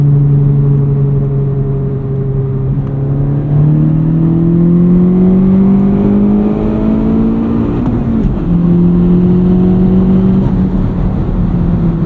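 Turbocharged engine of a Honda Civic Type R FL5 on a 93-octane tune pulls hard under boost, a loud steady drone rising in pitch through the gears with a brief dip at a shift, heard from inside the car.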